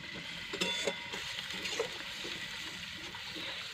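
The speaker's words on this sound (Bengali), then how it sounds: "দেখছো কড়াইয়ে মশলা গরম হচ্ছে।" Spices heat in a wok over a small wood fire of bamboo sticks and slats, giving a steady, moderate frying hiss with a few soft stirring knocks.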